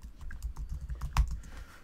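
Keys clatter on a Windows computer keyboard in quick, uneven bursts of clicks, close and fairly quiet, ending with a sharper, louder keystroke.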